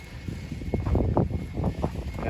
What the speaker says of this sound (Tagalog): Napakalakas po ng hangin dito, kung napapansin nyo.